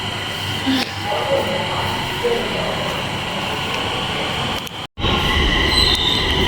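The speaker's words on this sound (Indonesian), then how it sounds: "Keretanya udah datang teman-teman. Aku harus bisa naik kali ini." A commuter train pulls into a station in China, loud and close, with a steady rumbling roar and squealing wheels that continue throughout, broken by one brief dropout near the end.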